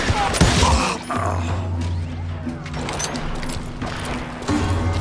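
Gunfire rattles in the Western video game Call of Juarez Gunslinger as loud, rapid overlapping shots and thuds over a low droning score, with voices faintly heard beneath.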